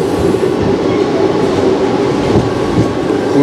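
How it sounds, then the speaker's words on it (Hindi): A passenger express train runs on through cold and fog, making a loud, steady rumble with faint clickety-clack from the wheels on the rails throughout. "पर इतनी आवाज़ों के बाद भी ट्रेन का जो मूवमेंट है उसे रोका नहीं गया है।"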